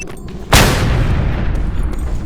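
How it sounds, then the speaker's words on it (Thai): A sudden loud explosion in the video game Just Cause 2, a sharp blast followed by a long rumbling roar that stays heavy and booming to the end. "เออระเบิดระเบิดระเบิด"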